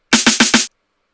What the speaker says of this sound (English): And then we have a little snare on every beat here.